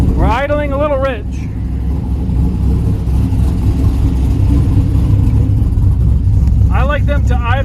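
A 1972 Buick Skylark engine idles slightly rich in a steady, continuous low rumble, with a voice talking over it at the start and again at the end.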